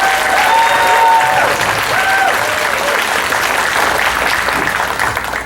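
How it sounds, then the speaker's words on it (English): An audience at an annual gala applauds a board of directors: dense, steady clapping from a large crowd filling the room for several seconds, with a few brief voices and whoops rising above it. "We can give our board of directors a nice round of applause for this."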